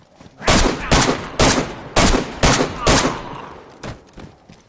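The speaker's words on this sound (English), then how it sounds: "I'm gonna shoot them" Gunshots ring out in the video game DayZ as a series of about eight loud, sharp cracks spaced roughly half a second apart. Each shot leaves a brief echo, and the last ones are fainter.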